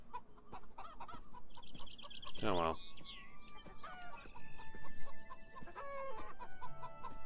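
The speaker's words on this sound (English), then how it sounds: "Ah, chickens are gonna run away and get attacked." Chickens cluck repeatedly in the video game Beyond Eyes, with one rising squawk, over a busy game soundscape of chimes and tones, and a person speaks briefly.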